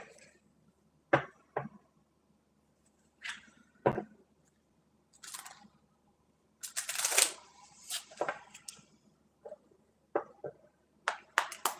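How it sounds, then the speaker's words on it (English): A deck of cards shuffled by hand for a reading, heard as a series of quick papery riffles and bridging bursts at an uneven pace, close and fairly quiet with pauses between shuffles and no talking. "Let's shuffle your deck."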